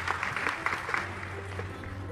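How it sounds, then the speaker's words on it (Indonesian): Applause from a church congregation, steady clapping under a loud speaking voice that carries over it throughout. "tepuk tangan sekali lagi untuk Tuhan Yesus"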